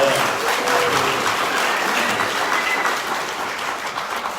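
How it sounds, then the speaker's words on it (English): Audience at a healthcare Q&A event breaking into steady, dense applause that stays loud and even throughout. "Round of applause."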